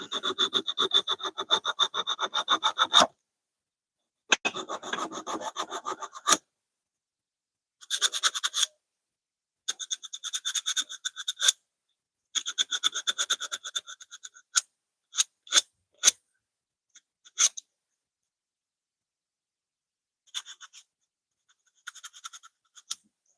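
Thin sandpaper rubbing back and forth on carved wood in a bushcraft setting, in close, rhythmic bursts of scratchy strokes separated by pauses, with a few short single strokes near the end.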